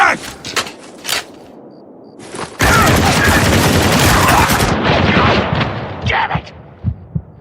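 Gunfire in the video game Spec Ops: The Line: a dense, loud burst of sustained automatic fire lasting a couple of seconds, framed by scattered single shots and impacts before and after.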